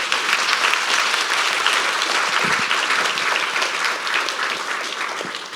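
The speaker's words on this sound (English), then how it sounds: "let's give our panelists another round of applause." An audience at a women's health panel gives the panelists a sustained round of applause: many hands clapping steadily and fairly loud, tapering slightly toward the end.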